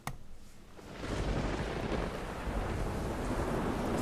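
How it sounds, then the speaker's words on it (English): A thunder sound effect in a song: a sharp crack followed by a deep, sustained rumbling roll that swells and holds for several seconds. "Thunder."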